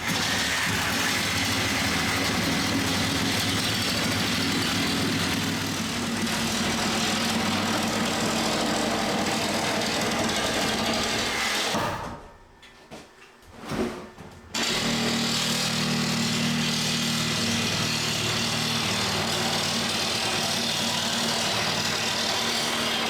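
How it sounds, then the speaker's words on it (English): Reciprocating saw cutting LP Smartside panel, a loud, steady buzzing drone that runs continuously, cuts out briefly partway through and then resumes at full strength, close by with no talk. "I think that was the cleanest reciprocating saw cut"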